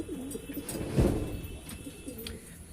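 Fancy pigeons in a loft, some sitting on eggs, give a low throaty coo, then fainter rumbling coos and a few soft chirps follow close by.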